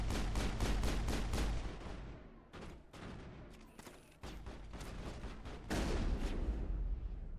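Rapid shotgun blasts from a firefight in the video game Mass Effect, a dense run of loud, closely spaced booms that thin out briefly mid-clip before the heavy firing resumes.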